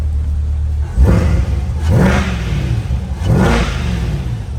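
A 2021 Corvette C8 convertible 2LT Z51 idles with a deep rumble and is revved three times, each blip rising and falling in a quick, loud, close burst.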